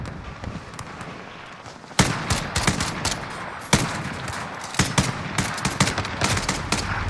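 Gunfire in the video game Warzone: rapid automatic bursts and sharp single shots crackle throughout, loud and close, with a heavier burst near the start of the second half.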